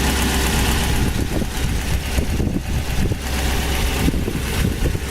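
Rebuilt 1965 Ford Thunderbird convertible engine idling close up, a steady loud low rumble with an even, slightly lumpy pulse throughout and no voices.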